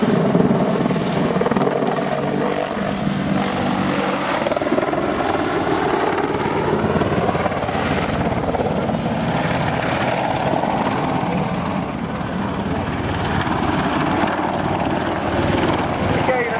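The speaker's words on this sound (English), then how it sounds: "Good photo opportunity for you here as the Apache comes in." An Apache helicopter roars steadily as it flies in, its dense rotor thump and engine whine loud and continuous throughout, with a voice talking over it.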